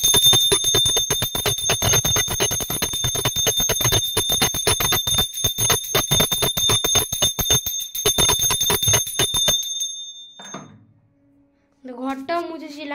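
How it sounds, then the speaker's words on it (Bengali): A small puja bell is rung rapidly in a home shrine, giving about ten seconds of continuous bright, close jingling. It fades out, and after a short silence a voice starts speaking. "ঘন্টাটা বাজিয়ে দিই।"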